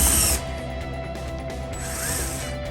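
Power drill whirring as it drives self-tapping drywall screws without pre-drilling, a brief louder burst at the start, then a steady mechanical grind with a slight rise near the end.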